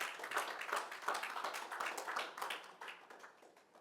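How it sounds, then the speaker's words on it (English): An audience at an investment summit claps in a soft, steady round of applause that slowly fades, heard faintly and alone. "Another round of applause,"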